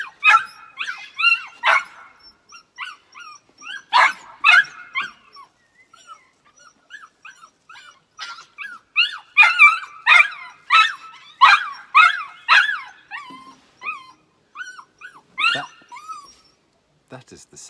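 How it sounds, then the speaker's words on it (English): A dog whines and yips in high, rising cries, breaking into sharp barks in rapid bursts, close and loud, continuing restlessly throughout. "that is the sound of my dog liking another dog."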